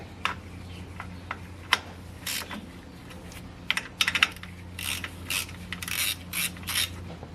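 Quick bursts of metallic ratcheting from a wrench snugging down the serpentine belt tensioner bolt on a BMW E36 with an M52 engine, clicking in short irregular runs over a steady low hum.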